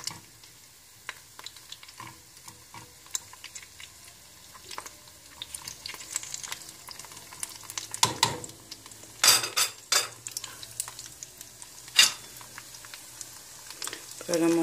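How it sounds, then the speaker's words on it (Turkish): Sucuk sausage slices frying in oil in a pan, a steady low sizzle with scattered crackles and pops, occasional louder bursts and metallic clinks of a utensil against the pan. "Tamamen yağın içine getirmeye çalışıyorum ki sucuklarımız hepsi aynı anda kızarsın."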